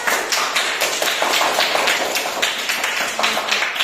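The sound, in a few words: schoolchildren clapping hands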